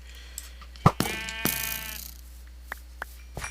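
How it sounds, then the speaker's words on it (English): A sheep in the Minecraft TerraFirmaCraft mod lets out a single wavering bleat, loud and close, followed by a few faint clicks over a steady low hum. "Just need to kill that sheep"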